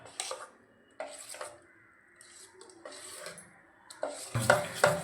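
Rice batter being stirred and mixed with a little water in a bowl, with soft scraping and clinking strokes in a few bursts, quiet and close, no talking.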